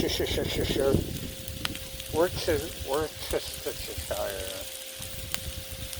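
Hamburger hash sizzles steadily on a Blackstone griddle as Worcestershire sauce is added, a crackling fry running underneath while someone talks over it.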